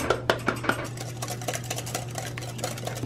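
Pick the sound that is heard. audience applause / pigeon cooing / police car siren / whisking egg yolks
whisking egg yolks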